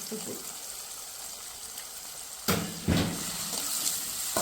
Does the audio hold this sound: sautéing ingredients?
yes